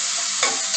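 Ginger and garlic sizzle steadily in hot oil for a moment, a close, continuous bright fry with a brief stirring swell partway through.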